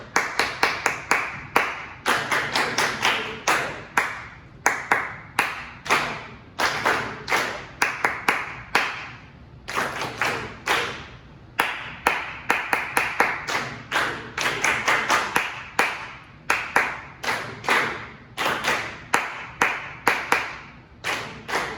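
Steady hand claps in an even rhythm, loud and close, repeating in regular groups with short pauses between sets and no talking.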